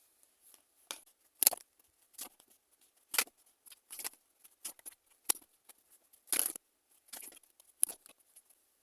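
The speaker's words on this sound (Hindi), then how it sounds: "चलिए कुछ कार्ड्स लेते हैं" Tarot cards shuffled and drawn, sparse crisp slaps and papery flicks at irregular intervals, close and quiet against near silence.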